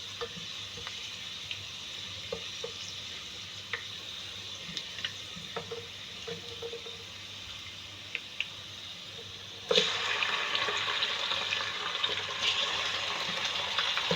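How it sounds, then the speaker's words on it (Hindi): Gosht sizzles and fries in a cup of oil or ghee with browning onions, a steady close crackle with small pops and stirring clinks, growing louder and brighter near the end. "गोश्त को अच्छे से फ्राई करना है"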